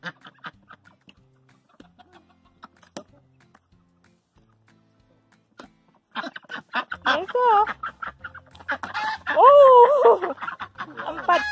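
Pekin ducks bathing in water give hoarse, nasal quacks and chatter that grow louder in the second half, close by, with splashy handling noises and people talking.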